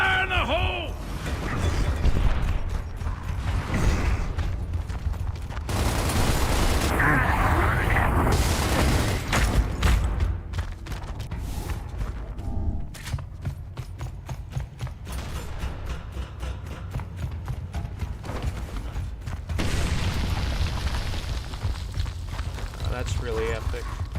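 A grenade goes off in Gears of War: Reloaded with heavy booming blasts and crunching debris over a dense bed of game noise, while someone talks over much of it.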